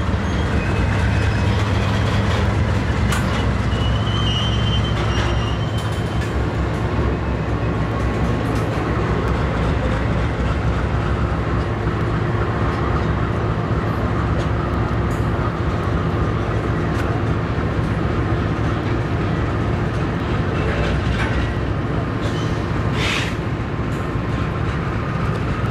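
A rebuilt 432,000-pound heavyweight freight locomotive rolls past nearby. It makes a loud, steady rumble and roar that holds for the whole stretch, with faint rail clatter underneath and no voices.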